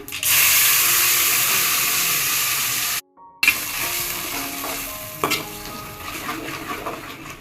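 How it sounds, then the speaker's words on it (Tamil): Mustard seeds and spices sizzle in hot oil for an egg curry, a loud, steady frying hiss that cuts out briefly, then returns slightly softer with occasional pops and stirring clatter. "கடுகு பொரிஞ்சிருச்சு"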